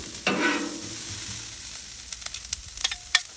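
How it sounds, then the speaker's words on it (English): Onions frying on a Blackstone flat-top griddle, a steady close sizzle with a brief louder hiss near the start and scattered crackles and spatula taps toward the end, no talk. "All right, so we've got our onions going."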